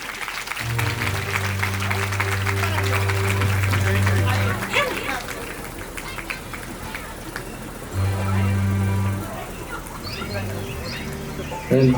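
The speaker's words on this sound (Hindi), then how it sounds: "और आप लोग भी तालियों से स्वागत करिए।" A crowd at a Hindu religious discourse gathering in Chandigarh claps in a dense, crackling patter, mixed with sustained droning tones and voices in the background.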